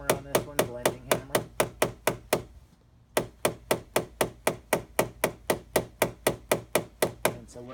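Rapid, evenly spaced metallic taps from a small blending hammer on a Mercedes car door during paintless dent repair, a brief pause, then the steady tapping resumes.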